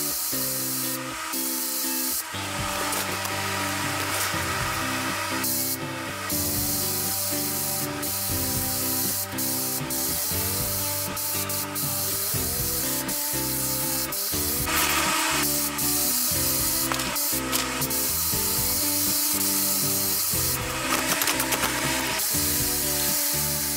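An HVLP spray gun lays a lacquer coat in a small garage shop, giving a loud, steady airy hiss with short pauses and restarts as the trigger is released and pulled again.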